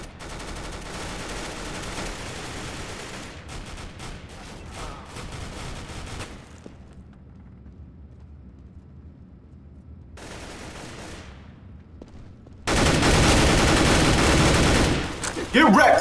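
AK rifle gunfire in Counter-Strike: Global Offensive, with dense bursts of shots early on, a quieter stretch and then loud sustained firing near the end.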